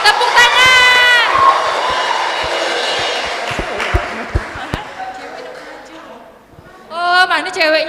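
Excited shouting and cheering from a crowd of young people at a church Christmas celebration in Pontianak, with scattered sharp claps and thumps, fading midway before a fresh burst of loud voices at the end.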